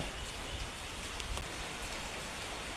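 Rain falls outdoors as a soft, even hiss of drops on the ground and surfaces, faint and continuous with a few brief louder spatters.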